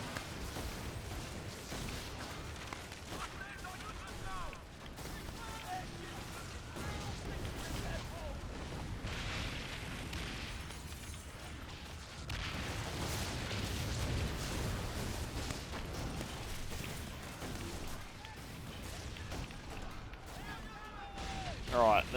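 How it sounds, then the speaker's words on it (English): Cannon fire and torpedo blasts from ships in a naval battle in the Skull and Bones pirate video game, with dense, continuous booming and crashing throughout and a louder stretch in the middle, under game speech. "Terrible, terrible torpedoes there, Narlin."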